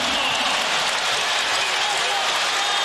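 Spectators at a 2002 NBA game between the Lakers and the 76ers in Philadelphia cheer and applaud in a loud, sustained roar that fills the whole stretch, with a commentator's voice faintly underneath.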